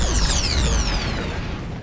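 A spaceship explodes in the Roblox space game Galaxy, a loud, dense crashing roar with descending whooshing tones that fills the whole short burst before easing slightly.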